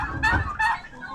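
Two short, close gobbling calls from a bird sound in quick succession.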